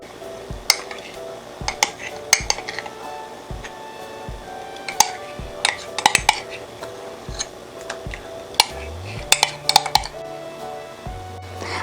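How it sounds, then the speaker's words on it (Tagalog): A pot of coconut ice candy mixture with sugar is stirred on the stove, giving scattered clinks and scrapes of a utensil against the metal pot, close and fairly light, with no talking. "haluin lang natin ng mabuti para magpantay po yung lasa"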